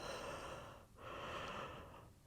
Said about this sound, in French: souvent un bâillement vient spontanément comme vous entendez